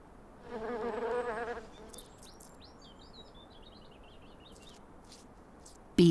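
A bee buzzes close by flowers for about a second, a steady droning hum, then fades as faint birds chirp in the background.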